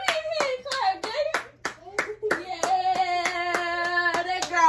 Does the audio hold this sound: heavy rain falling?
no